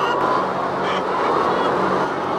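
A large flock of hens fills a free-range egg farm shed with a dense, steady murmur of clucking and chatter, loud and continuous with no single bird standing out.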